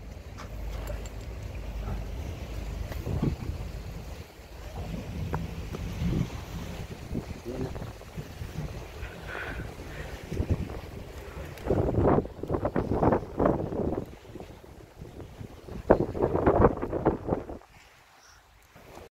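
Wind gusts buffet the microphone at a sea cave in Coloane, Macau, a steady rushing roar with louder blustery bursts late on, while people talk intermittently over it.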